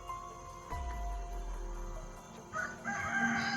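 A forest rooster crows loudly nearby in one long drawn-out call, followed by softer bird sounds and faint background noise.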